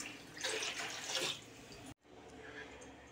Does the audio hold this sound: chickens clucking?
no